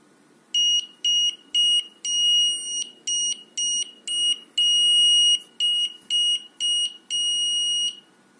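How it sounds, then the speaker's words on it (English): An electronic buzzer on a Raspberry Pi smart home setup beeps in a rapid series of short and longer bursts, loud and piercing, with brief silences between pulses. "the buzzer will turn on"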